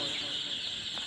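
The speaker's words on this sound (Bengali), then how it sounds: "এখন বলছে সোনালী মুরগি।" Sonali chickens on a farm clucking briefly against a steady, hissy background, with a little indistinct voice.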